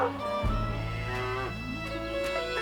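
A cow moos in a long, low, drawn-out call, close and loud, with a steady sustained tone and no talking.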